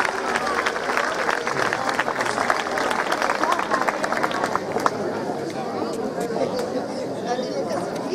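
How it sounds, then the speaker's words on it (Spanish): An audience applauds steadily at a 1960s fashion retrospective with models, the clapping blended into a dense crowd hubbub and chatter that runs throughout. "Un aplauso para Elena."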